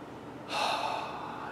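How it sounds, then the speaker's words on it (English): A single deep inhalation during a guided meditation, a soft airy breath that starts abruptly partway in and is held steady and close, with no talking. "Take a deep breath."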